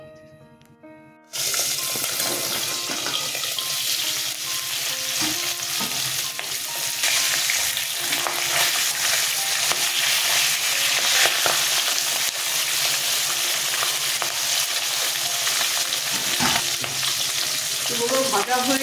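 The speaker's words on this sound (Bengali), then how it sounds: "আমি প্রথমে মাথাগুলো ভেজে নেব" Katla fish heads sizzle loudly in hot oil for an East Bengal dish, a dense steady crackle with occasional stirring clatter after a brief quiet start, no talking over it.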